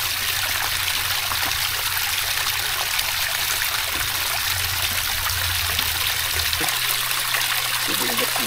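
Water pours steadily over a homemade backyard pond waterfall, a continuous close rushing and splashing with a low hum underneath.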